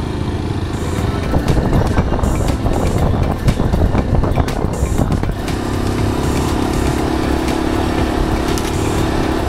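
A Yezdi Adventure motorcycle engine idles nearby, then revs up with a rough, rising roar before settling back to a steady rumble.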